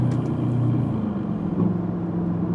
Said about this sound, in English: That 4-liter twin turbo V8, just the sounds it makes